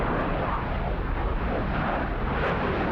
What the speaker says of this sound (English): Supersonic penetration bomber, but clearly not supersonic here, with the wheels down for a slow fly past